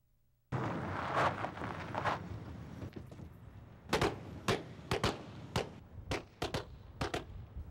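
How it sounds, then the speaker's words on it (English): Blank rounds fired from real guns on a war movie set, heard as a string of sharp, loud single shots spaced irregularly after a rumbling noisy opening, each crack distinct and close. "To make gunfire look real in the movies"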